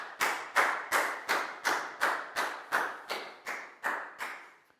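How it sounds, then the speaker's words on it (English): A class of Year 4 children applauds in a classroom, giving about a dozen even, crisp claps in a steady rhythm, loud and close, with no talking over it. "High five and a big round of applause for Down, please, guys."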